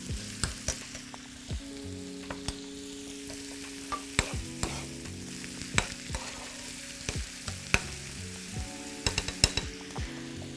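Chopped onions sizzle and crackle steadily in a pan as they turn golden for cutlets, with frequent metallic clinks and scraping of a utensil stirring against the pan throughout.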